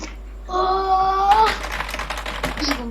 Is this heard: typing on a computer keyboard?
yes